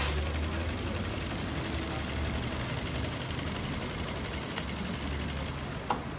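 A straight-stitch sewing machine runs steadily during free-motion quilting, a continuous close mechanical whir with a fast rapid needle rhythm and no break.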